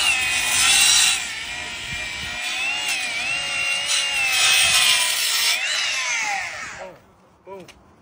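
A small hand saw cuts through lawn sod in steady back-and-forth strokes, rasping close and continuous for about seven seconds before stopping, with a brief scrape near the end.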